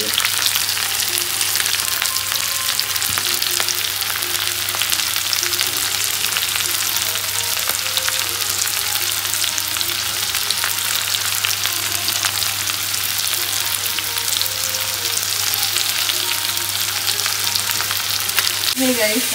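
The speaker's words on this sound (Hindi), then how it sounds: "गोभी और उसको डाल के ना हमने कर लिया फ्राई, लेकिन उसके साथ थोड़े नमक भी डाल देंगे तो वो भी फ्राई होते रहेंगे" Cauliflower frying with salt and turmeric in a pan gives a loud, continuous sizzle close by, with occasional scraping of stirring woven through the steady hiss.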